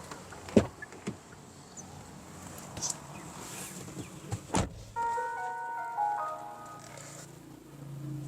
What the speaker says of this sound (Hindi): इसके अंदर पहले वेलकम साउंड आती है